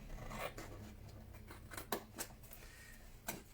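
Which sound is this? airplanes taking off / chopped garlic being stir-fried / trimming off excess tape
trimming off excess tape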